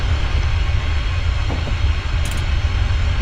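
A Class 380 train on the Glasgow airport rail link in Train Simulator, slowing at a platform, a loud continuous low rumble of the running train with a few faint clicks and a brief high hiss near the end.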